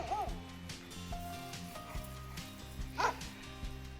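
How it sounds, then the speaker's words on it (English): Dogs bark repeatedly at dirt collapsing into a freshly dug hole by an off-grid barn, with yips and whimpers in a steady rhythm at moderate distance and a brief voice partway through. "Barking at it."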